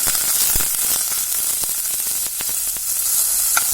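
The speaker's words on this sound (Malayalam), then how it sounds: "ഈ സവാളയിനൊന്ന് ചെറുതായിട്ടൊന്ന് വഴറ്റിയെടുക്കാം." Chopped onions sauté in a pan for Maggi masala noodles, making a close, continuous sizzle with light stirring taps scattered through; no voices.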